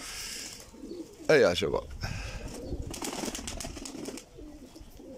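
Pigeons cooing close by, soft throaty coos with a sudden flurry of wing flaps near the start, while someone speaks over the birds.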